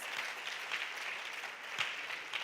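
Crowd applause for a competing school at a junior science and maths quiz championship, a continuous even patter of many hands clapping with a few sharper individual claps standing out, moderately faint.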